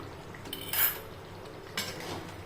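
Brinjal-potato gravy with fresh coriander being stirred in a pot, with two distinct bright clinks of a metal spoon against the pot rim over a quiet background.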